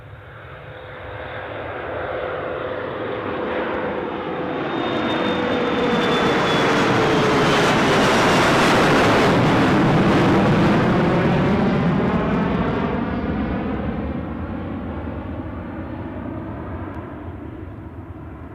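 A jet airliner takes off at Newcastle International Airport, its roaring engines swelling loud and broad toward the middle of the pass, then fading as it climbs away, with no voices.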